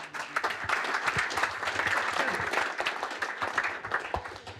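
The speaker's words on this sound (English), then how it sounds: "So a round of applause, please, for them." An audience at a TR Register car club session breaks into warm, sustained applause, a dense wash of many hands clapping evenly throughout, with a few sharper close claps standing out.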